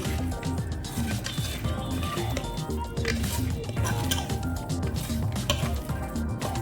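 A chicken biryani mixture is stirred in a pot, a dense continuous wet squelching and scraping with clinks of the utensil against the metal, steady and close.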